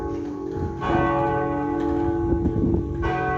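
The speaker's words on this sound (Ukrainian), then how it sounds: "Дзвони дзвонять, звуть на службу." A peal of church bells from the former Catholic, now Protestant church of St. John the Baptist in Gouda, Netherlands, rings close and loud, overlapping strikes swelling into a sustained, shimmering clangor with no voices.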